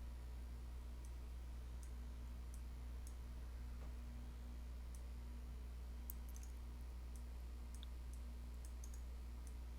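Faint, sparse computer mouse clicks scattered one by one over a steady low hum while working in a game editor for Take On Mars, with long quiet gaps between them.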